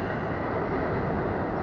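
A train rumbles past nearby with a loud, steady roar of wheels and cars, filling the whole stretch without pause.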